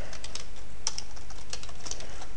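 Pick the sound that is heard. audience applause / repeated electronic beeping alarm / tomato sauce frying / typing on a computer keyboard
typing on a computer keyboard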